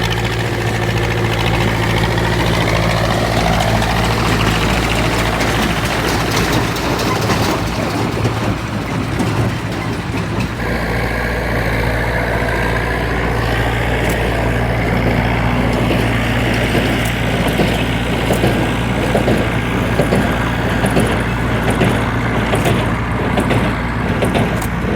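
A 1969 vintage tractor engine at a haymaking festival in Trim, running steadily with a low, throbbing idle and a mechanical rattle, loud and continuous throughout with no talking.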